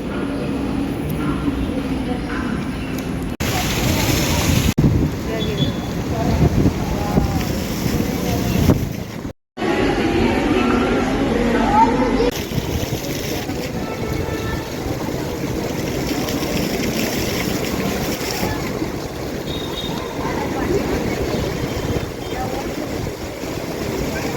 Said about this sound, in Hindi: बट काफ़ी तेज़ हवा चल रही थी